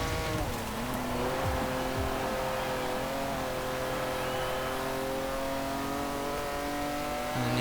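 In Forza Horizon 4, a car's engine revs loudly as it slides around at about 70 mph. The engine pitch rises and falls steadily over a continuous rush of tire noise.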